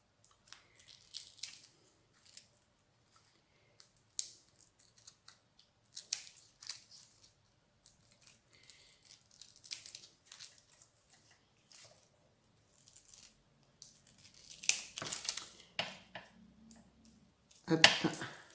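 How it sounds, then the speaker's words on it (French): Scissors snipping a strip of decoration material for a mini Advent calendar decoration, a series of sparse, close, crisp cuts with quiet pauses between them and a louder burst of snipping toward the end. "je vais juste prendre, couper une bande pour faire mon tour"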